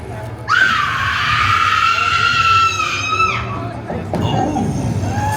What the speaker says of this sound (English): just let out your best horror movie scream for the people here when you're ready